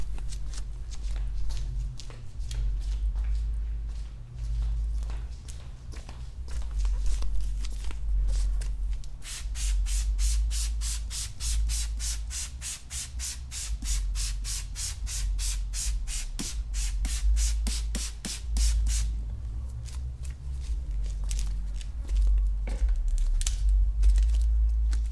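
P&S Brake Buster cleaner sprayed onto a surface, heard as a rapid run of short, even spritzes lasting about ten seconds over a low steady hum, with faint rubbing and handling noises before and after.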